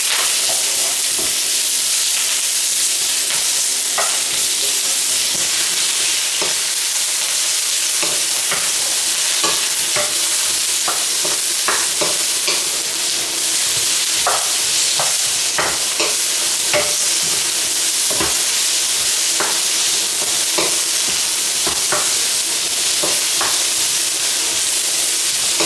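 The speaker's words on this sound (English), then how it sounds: "I'm going to just dump in my onions and my garlic here. Give that a quick stir fry." Onions and garlic stir-fried in a very hot wok for a Cantonese chicken and potato stew: a steady, loud sizzle runs throughout, broken by frequent sharp scrapes and clacks of the spatula tossing the pieces, with no talking.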